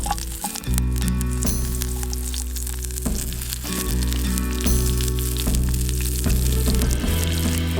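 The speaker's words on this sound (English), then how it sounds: "I'm just going to cook the broccolini pretty much the same way I did with the potatoes." Broccolini frying in a pan over a campsite stove beside a creek, a steady, loud sizzle and crackle running throughout with a low hum underneath and no talk.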